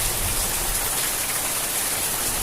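Steady night rain in Ratnagiri, a continuous dense hiss of drops falling close by, loud and even throughout with no voices.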